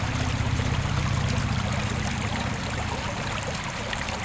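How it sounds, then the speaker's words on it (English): A small tributary stream flows through a front yard off Highway 105 in Boone, a steady, dense rush and trickle of running water, close and continuous with no voices. "he has this tributary stream running through his front yard"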